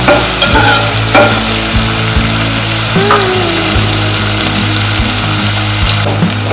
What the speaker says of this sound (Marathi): कांदा जरासा आपल्याला गोल्डन ब्राऊन करायचा आहे.